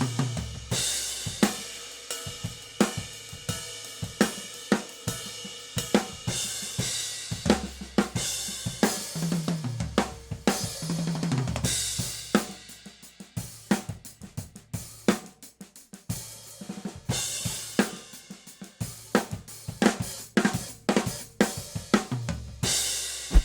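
A drum kit in a studio captured by a spaced AB pair of overhead microphones set one metre apart, with snare, kick and cymbals played in a steady groove, open and roomy with crisp hits and no talking.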